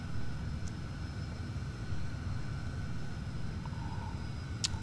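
A Cessna light plane's engine in a flight game hums as a faint, steady drone, unbroken for several seconds.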